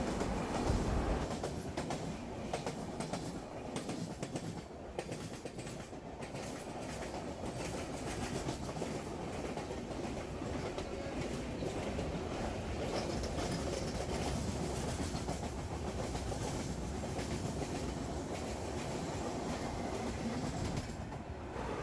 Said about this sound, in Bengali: না জানা একটি এক্সপ্রেস ট্রেন আমাদের ট্রেনকে ওভারটেক